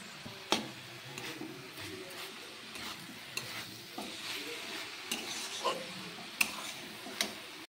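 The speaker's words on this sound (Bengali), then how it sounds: "চিনি অ্যাড করার পর একটু ভালো করে নেড়ে চেড়ে" Cabbage ghonto with sugar being stirred in a pan, a soft steady sizzle under scattered scraping knocks of a utensil against the pan, with a few sharper clacks along the way.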